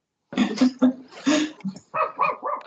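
A dog barks several times in quick succession during an online meeting about a European basic income initiative. The barks sound close and fairly loud, and a person is heard talking briefly around them.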